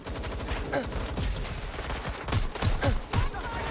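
Rapid gunfire in Watch Dogs: Legion, a busy exchange of automatic bursts and sharper single cracks that grows louder toward the end, with no voices over it.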